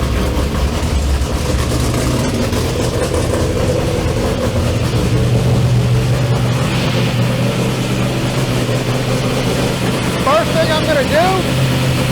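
A car engine fitted with a 4150 E85 carburetor idles steadily and loudly up close, a continuous low rumble throughout, with faint talk and small tonal chirps near the end.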